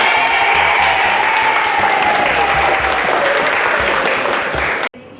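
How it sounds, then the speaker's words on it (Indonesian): A group applauds after a digital microteaching session, a loud, even burst of clapping held for about five seconds that cuts off abruptly. "Oke, tepuk tangan."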